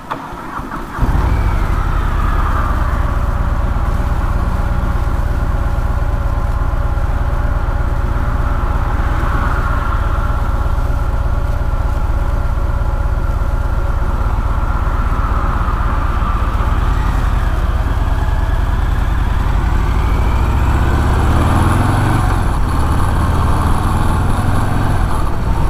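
A Harley-Davidson Breakout 117 motorcycle engine cruising on a highway, a loud, steady low rumble with continuous wind and road noise that holds constant throughout, with slight shifts in pitch near the end.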